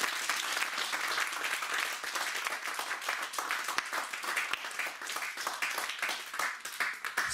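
A church congregation applauds in praise, dense continuous clapping from many hands that fills the room and swells and dips slightly, with no voices standing out.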